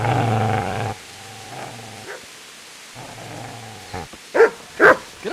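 A dog in Kingdom Come: Deliverance growls long and low, falls quiet, then gives a softer growl and ends with two sharp, loud barks, all heard close and with no voices.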